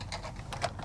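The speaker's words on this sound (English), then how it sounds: "Keep typing, son." Typing on a computer keyboard, a quick run of light clicky keystrokes in uneven bursts, close and moderately loud with no voices.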